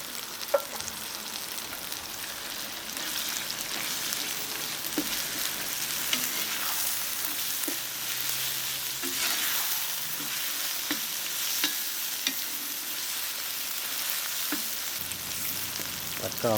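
Sausage and bacon fry in a cauldron with tomatoes added, giving a loud, continuous dense sizzle and crackle throughout, with occasional faint stirring clicks.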